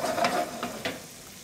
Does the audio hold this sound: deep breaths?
no